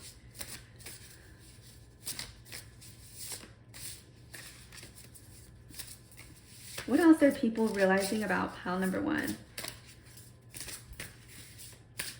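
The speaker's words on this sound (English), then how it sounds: "I used to not like to shuffle my decks on camera" Tarot cards being shuffled in quick riffling bursts, loud and near, between stretches of quiet; a voice speaks briefly beforehand.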